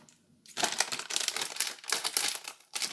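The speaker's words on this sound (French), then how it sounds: "Je vais prendre mes ciseaux" Scissors snipping and crinkling through a hard-to-open plastic snack package, close and crisp, a dense burst of cutting and rustling after a short silence.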